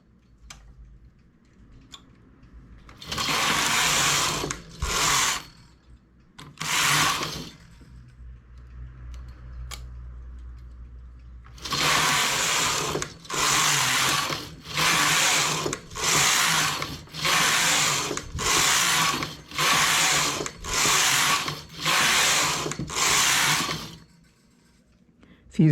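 A domestic knitting machine carriage sweeps back and forth, knitting rows of a one-piece square poncho in a regular series of loud rasping, rattling passes. Short pauses and a lower hum sit between the strokes.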